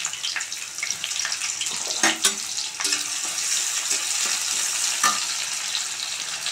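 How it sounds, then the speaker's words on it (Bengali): Bay leaf and dried onions frying in hot oil, a bright steady sizzle with occasional scrapes and taps of a spoon stirring the pan, close by and fairly loud. "পেঁয়াজটা একটু হালকা লাল করে ভেজে নেব।"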